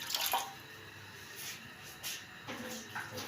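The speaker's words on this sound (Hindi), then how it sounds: "थोड़ा सा बस पानी डालना है, तकरीबन 1 गिलास" Water, about a glass, poured from a glass into a pot of soaked urad dal for a chicken dal dish, giving a steady wet splashing pour with a few louder gushes near the end, and no talk.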